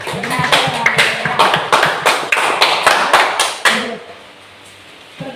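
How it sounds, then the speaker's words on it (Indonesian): A classroom claps for a student group in a science lesson: a short burst of distinct, fairly loud claps at an uneven rhythm for about four seconds, then stopping abruptly into near quiet. "Kita kasih tepuk tangan untuk kelompok 2."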